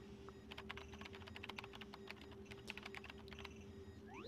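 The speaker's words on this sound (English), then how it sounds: "Use the keyboard to send whatever message you want." Quiet, steady clicking of keys being typed in Paper Mario: The Thousand-Year Door, a light patter of taps over a low hum of background game music.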